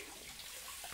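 Cold water runs from a tap in a steady, faint, even stream during a classic wet shave, with no one talking.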